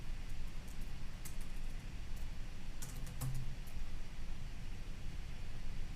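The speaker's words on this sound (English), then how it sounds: "if I just start typing in Country Music Festival" Typing on a computer keyboard while searching for a country music festival: faint, scattered key clicks in short bursts over a steady background hiss, with no voices.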